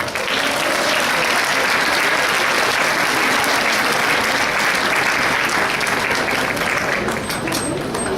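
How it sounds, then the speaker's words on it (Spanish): An audience at a conference gives a speaker sustained, even applause, loud and close throughout with a faint whistle-like tone near the end. "Por favor, un aplauso a ella."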